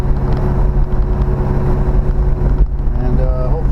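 The 383 V8 of a Plymouth Fury idles with a steady, deep rumble close by, under wind noise and a voice.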